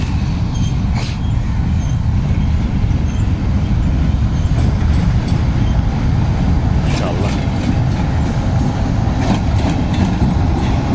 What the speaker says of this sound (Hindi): ये मालगाड़ी है, हल्की स्पीड में आ रही है।